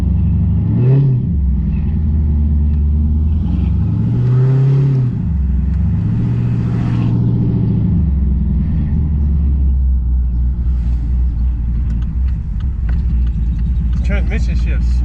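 A stage 2 cammed Pontiac G8 GT V8 rumbles loudly while driving, with several revving surges and a choppy idle between them, and voices talk over the engine.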